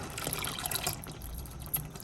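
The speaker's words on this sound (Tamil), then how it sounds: "ஒரு கப்பு தண்ணியும் நம்ம சேர்த்துக்கலாம்" Water poured from a cup into a pot of payasam on the stove, a short soft liquid splash and trickle lasting about a second, close by, followed by quieter kitchen noise.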